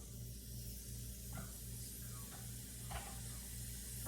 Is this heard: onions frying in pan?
yes